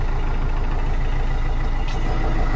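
A Solis 105 tractor engine drones and rumbles steadily and continuously at close range, with no voices over it.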